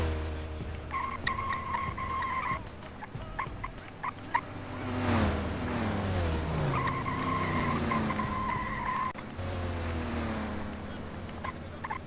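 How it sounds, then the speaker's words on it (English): A police car races through the streets of Los Angeles in the video game True Crime: Streets of L.A., engine droning with repeated tire squeals and skids over a steady roar. "So we're just gonna, race our way there in this beautiful vehicle."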